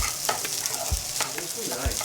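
A spatula stirs and chops through fried rice with fish roe and mayo in a hot pan, loud continuous sizzling with repeated scraping strokes and occasional dull taps against the pan, close up and with no talk.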